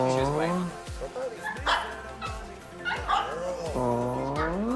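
A puppy yips, barks and whimpers close by in a rapid run of short high cries, while people talk over and around it.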